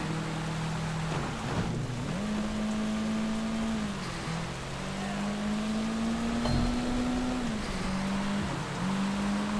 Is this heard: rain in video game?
yes